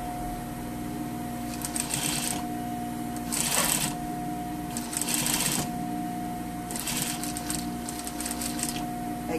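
A sewing machine stitching a front fly beside the zipper, running in several short bursts of rapid mechanical chatter separated by pauses, with a steady motor hum underneath and no talk.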